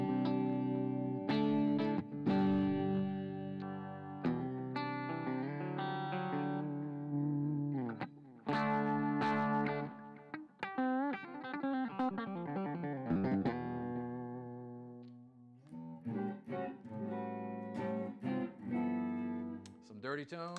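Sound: Reverend Charger electric guitar playing clean tones

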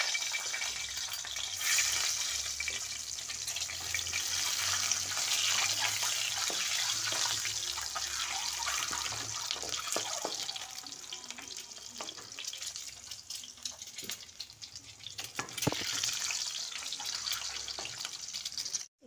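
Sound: eggs frying lightly in a pan

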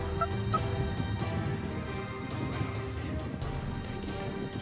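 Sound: wild turkey gobbler approaching in Florida palmettos

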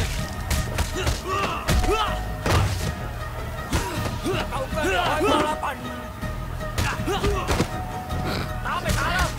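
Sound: leg sweep fight thuds in video game Sleeping Dogs

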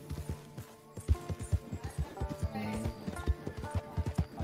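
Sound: horse hooves in Red Dead Online video game

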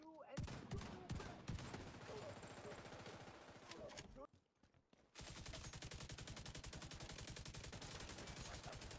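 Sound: machine gun fire in video game The Division 2

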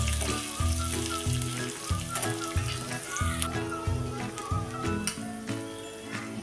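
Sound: hot tempering oil poured, sizzling

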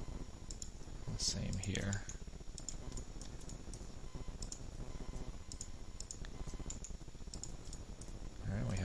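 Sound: computer mouse clicks while modeling in 3ds Max

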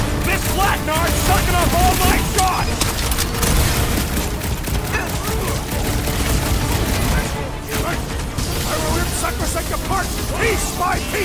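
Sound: gunfire in Guardians of the Galaxy video game

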